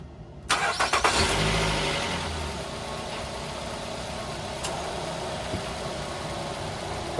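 A car engine cranks briefly and catches during a fault diagnosis, then settles into a steady, close idle hum that continues to the end.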